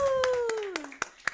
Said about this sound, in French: Attends, on va applaudir quand même,